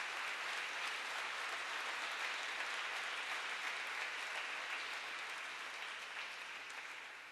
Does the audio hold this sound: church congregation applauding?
yes